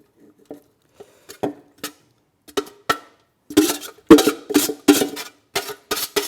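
Macaroni pasta being stirred in a cast iron pot on a wood-fired pot belly stove: irregular bursts of wet scraping and clinking utensil strokes, sparse at first and then coming in quicker, louder clusters, close up with no talk.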